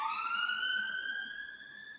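A wailing ambulance siren outside, heard through a room during a Juventus vs. AC Milan football watch-along, rising in pitch then holding as it slowly fades, a single clear tone with harmonics and no speech over it.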